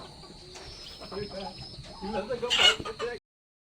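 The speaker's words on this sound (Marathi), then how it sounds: "हे बघा या कोंबड्या आहेत" Farm chickens cluck and coo close by in a steady, uneven patter, growing busier and louder near the end, with a person's voice faintly underneath.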